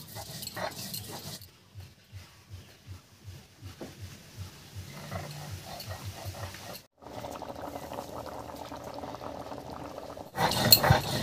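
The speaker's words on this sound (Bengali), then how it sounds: "ঝোলটা বলক উঠে গেছে।" Fish curry broth with new potatoes boils in a pot, giving soft rhythmic bubbling pulses at first and then a denser simmering hiss, quiet and close, with a brief louder clatter at the end.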